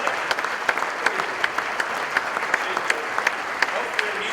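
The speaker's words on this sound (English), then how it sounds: "Please join me in giving them a round of applause at our Lemoyne College family." Sustained audience applause at a county State of the County Address, welcoming Le Moyne College guests. Many hands clap steadily at an even level, with a voice faintly over the crowd.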